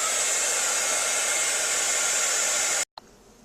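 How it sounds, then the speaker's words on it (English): A heat embossing tool melting gold embossing powder on a handmade card blows a steady, loud fan-and-heater whoosh for nearly three seconds, then cuts off sharply, leaving a faint quieter hum. "Let's go ahead and use our heat tool on the gold."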